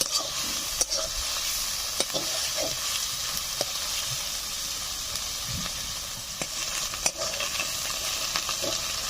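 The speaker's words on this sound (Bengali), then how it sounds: "পেঁয়াজ হালকা হালকা ভাজা ভাজা হয়ে এসেছে" Onion paste fries gently in hot oil with dried red chillies, a bay leaf and cumin seeds, making a soft, steady sizzle. A spoon scrapes and clicks against the pan at irregular intervals as the paste is stirred.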